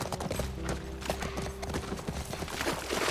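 Horse hooves clip-clop at a steady gallop in The Last of Us, a busy rhythmic run of hoofbeats under faint game ambience.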